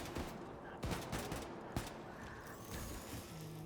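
Gunfire bursts from the video game Wolfenstein II: The New Colossus, several sharp shots and rattling volleys over a dense, busy game soundscape.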